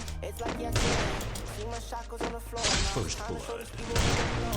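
Gunfire in the battle-royale game Free Fire, repeated loud bursts of shots and heavy thumps in quick succession, with an excited voice talking over the firing.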